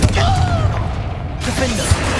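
A Confringo spell in Hogwarts Legacy fires, a sharp fiery blast with whooshing magical streaks and a low boom, mixed with game effects and a shouted voice.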